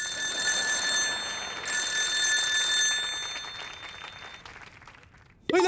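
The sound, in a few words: telephone bell ringing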